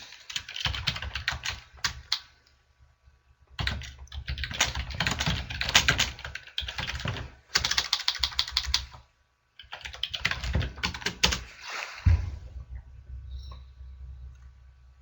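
Rapid typing on a computer keyboard, close and clear, in busy bursts of keystrokes broken by short pauses.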